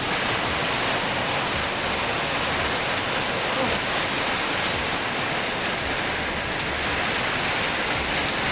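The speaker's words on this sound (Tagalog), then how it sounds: "yung lakas ng ulan" Heavy typhoon rain pours down steadily, a dense, unbroken roaring hiss that stays loud from start to finish.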